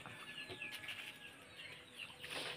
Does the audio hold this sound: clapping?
no